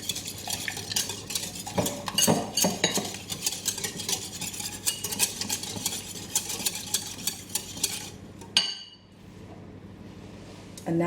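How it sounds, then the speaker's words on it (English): Whole milk is whisked into Yorkshire pudding batter in a bowl: rapid, rhythmic scraping and clinking of a whisk against the bowl for about eight seconds, then stopping abruptly and leaving quiet background. "Now add 150 milliliters of whole milk. Whisk this together again."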